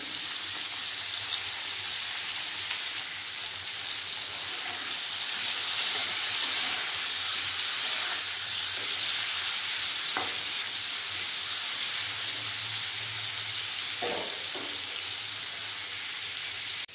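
Five green chillies sizzle steadily in hot oil in a home kitchen while a vegetarian posto dish is cooked, giving a continuous, fairly loud frying hiss with a few faint stirring clicks and no talking.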